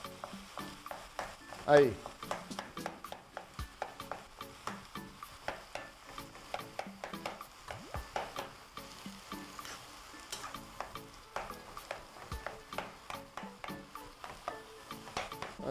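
Food sizzles and is stirred in a frying pan, with rhythmic scraping strokes over a steady crackling fry, close and moderately loud, and a brief spoken word early on.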